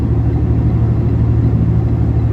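A semi truck engine climbing a hill in gear in Western Canada, a loud, steady, deep diesel rumble with a throbbing low pulse, heard close up from the cab with no talk.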